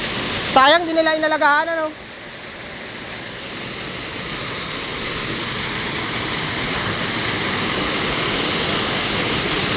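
Water rushes steadily at Magsaysay Falls, a broad continuous roar that swells slightly over time, with a person speaking briefly at the start over it.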